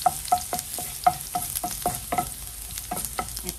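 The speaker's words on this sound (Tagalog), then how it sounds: "Mainit na ang ating mantika sa ating pan at ilalagay na natin yung ating garlic" Garlic frying in hot oil in a pan for chicken adobo with coconut milk, a soft bubbling sizzle broken by a string of quick clicks and scrapes from stirring.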